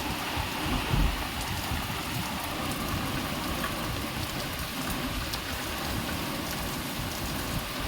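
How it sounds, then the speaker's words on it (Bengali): Heavy nighttime rain pours down in a dense, continuous hiss while gusty wind adds low, rushing surges, with one brief louder gust near the start; no one speaks. "ভালোই বৃষ্টি হচ্ছে হাওয়া দিচ্ছে ঝোড়ো হাওয়া"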